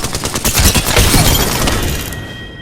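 Rapid gunfire in an Apex Legends Season 18 match crackles as a loud, dense burst of repeated shots, with a quick rattling rhythm that tails off toward the end and no talking.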